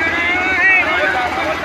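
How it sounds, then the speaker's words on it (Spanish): Helicopter hovering low over the Suchiate River on the Mexico border, a steady loud rotor drone and engine whine that fills the clip under a voice. "El helicóptero lo que hace es bajar y tirar aire a modo de dispersar a los migrantes."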